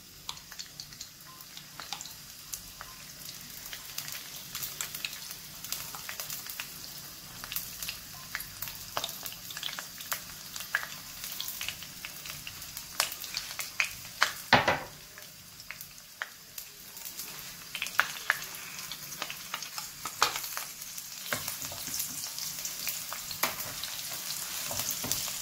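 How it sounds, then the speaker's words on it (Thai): Garlic stir-fried with roasted chili paste over moderate heat makes a continuous sizzle, broken by frequent scraping and clattering strokes of a spatula in the pan, close by, with no talking. "กระเทียมลงไปผัดกับน้ำพริกเผานะครับผม"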